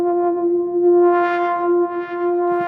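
A sustained synth tone with a dull, muffled timbre, holding one steady pitch with a slight swelling brightness partway through.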